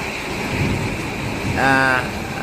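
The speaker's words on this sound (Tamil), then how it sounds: "நல்ல காற்று, நல்ல மழை." Steady heavy rain roars with a low rumble of thunder and wind beneath it in a sudden storm with lightning in Nagercoil; a brief voice rises over the downpour near the end.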